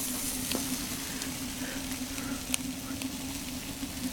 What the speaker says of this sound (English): Got a burger on there, cooking it in the pan